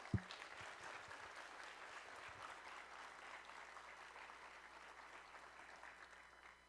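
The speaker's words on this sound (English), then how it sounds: "let's give them a round of applause" A live audience at a university employee experience event gives a round of applause, a sustained crowd clapping that starts with a sharp clap, holds steady, then slowly tapers off.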